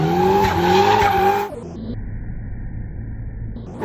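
Nissan S14 drifting with its tires skidding: a loud, sustained squeal over engine roar for about a second and a half, then a sudden drop to a quieter, steady rumble with a thin high tone.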